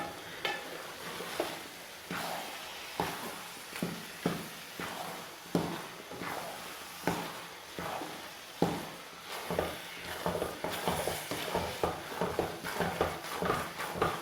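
Carrot halwa roasts in a pan, with a steady sizzle broken by regular scraping stirring strokes about every second or so, close and clear with no talking.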